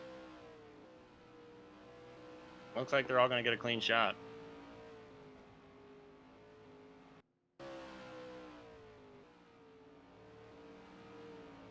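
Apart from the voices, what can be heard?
race cars on track during qualifying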